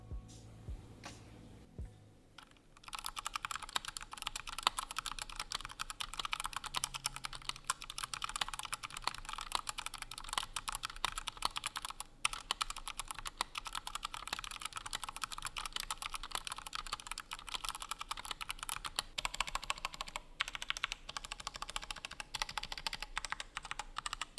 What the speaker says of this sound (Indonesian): Kita coba denger dulu typing testnya.